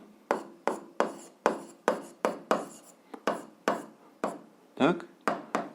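Pen strokes on paper while working through a 7th-grade algebra exercise: about fourteen crisp, close scratching strokes in a steady, uneven rhythm, each with a quick attack and short fade, with no talking.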